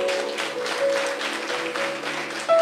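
Church congregation applauding during a Spanish-language sermon, a dense continuous patter of clapping hands at moderate loudness with a faint sustained tone underneath.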